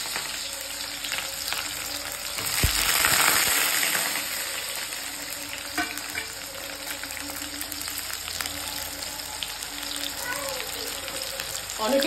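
Onion hits hot oil for mutton kasha, a constant close sizzle with a louder burst of crackling and stirring early on, then settling into an even frying hiss.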